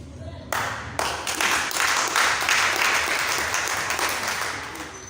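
A church congregation bursts into applause to welcome visitors, starting with a few claps, then swelling into sustained clapping from many hands before slowly fading.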